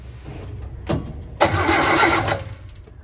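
An Austin-Healey Sprite engine cranks briefly after a short mechanical pull, then catches and runs for about a second before dropping back. The sound is close and fairly loud, with no voices over it.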